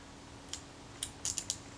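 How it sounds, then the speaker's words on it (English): Setting the self timer on a partially disassembled Rolleicord Va camera gives a few tiny sharp metallic clicks and ticks, close and quiet, clustered near the end with no speech. "So, set the shutter, and we set the self timer."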